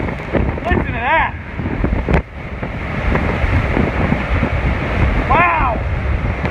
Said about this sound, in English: Unbelievable winds.